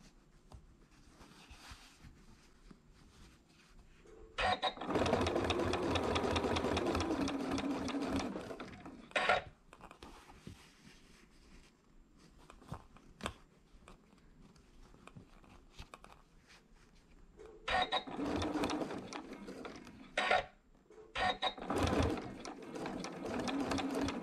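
A sewing machine stitches quilt sashing held with basting tape, running in two long bursts of rapid, steady stitching, plus several short runs and quiet pauses between them.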